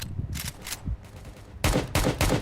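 Gunfire in the Roblox game Prison Life: a few rapid bursts of shots, then a louder run of closely spaced automatic fire near the end, with quieter gaps in between.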